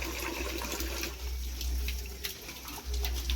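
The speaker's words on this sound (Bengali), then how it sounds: "মা আবার পাতাগুলো ধুয়ে নিতে বলল আমি পাতাগুলো ধুয়ে নিচ্ছি বন্ধুরা" Jackfruit leaves are washed under running water, a steady close splashing and trickling like a tap into a sink, with a few brief louder splashes.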